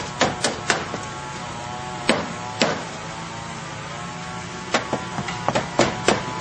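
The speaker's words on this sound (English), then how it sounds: "He's going to tack that down with some basic roofing nails." Roofing nails go into roof underlayment under a hammer, a dozen or so sharp close blows landing in small irregular clusters over a faint steady hum.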